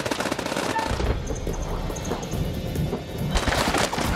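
Dense automatic gunfire in the video game House of Ashes, a loud rapid fusillade of close shots that thins into scattered bursts and then swells again at the end.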